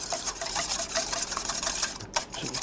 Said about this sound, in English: just whisk these up a bit.